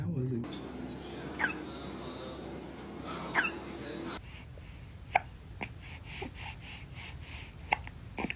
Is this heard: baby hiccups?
yes